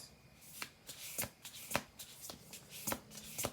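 Oracle cards being riffled and shuffled by hand in a series of crisp, quick bursts, roughly eight sharp flutters spaced through the stretch, close and clear with no talk.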